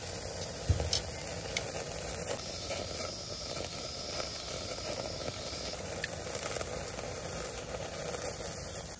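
Pork belly samgyupsal sizzles steadily on a pan at a campsite, giving a continuous crackling fry with small pops. Nobody talks.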